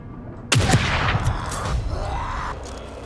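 In the video game The Evil Within 2, two sharp gunshots ring out close together, followed by a rumbling echo and some faint clattering as the sound decays.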